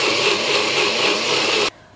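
A kitchen mixer grinder whirs loudly and steadily, blending onion, ginger and garlic into a paste with water, then cuts off abruptly near the end, leaving near silence.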